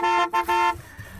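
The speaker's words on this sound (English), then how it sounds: "please join with me in honoring these giants by honking your horns" Car horns honking at a graduation ceremony, two loud close toots in quick succession, the second held longer, then fading into low background noise.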